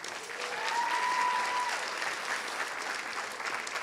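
Applause from the audience at a student affairs awards ceremony for Student Engagement Award winners, a sustained wash of clapping from a sizable crowd with a faint tone briefly ringing over it.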